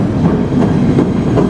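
A PATH subway train rides from New Jersey toward the World Trade Center, with loud, close wheel rumble and rhythmic clickety-clack over the rails heard from inside the car.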